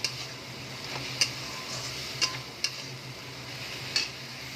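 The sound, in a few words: stirring spice masala paste in a pan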